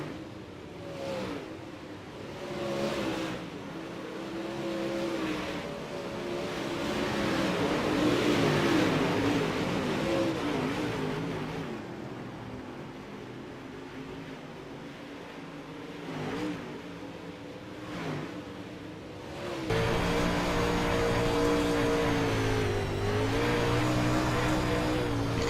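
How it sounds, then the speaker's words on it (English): Dirt modified race cars racing at Volusia, engines roaring and revving continuously with shifting pitch, close and loud, swelling as cars pass. "The 74 car makes a really nice move there to pass me on the low side."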